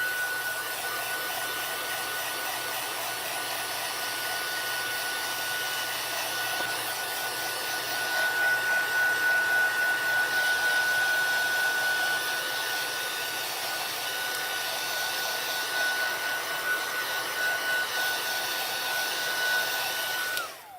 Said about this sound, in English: I'm going to real quick hit these with the heat tool because we did use Versamark